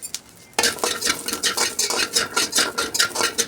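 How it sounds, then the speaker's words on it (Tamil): Garlic roasts in a pan while a utensil stirs it in quick repeated scraping strokes over a crackling sizzle. The sound starts suddenly after a quiet moment and keeps an uneven rhythm up close. "பூண்டு நல்லா ரோஸ்ட் பண்ணிக்கணும்"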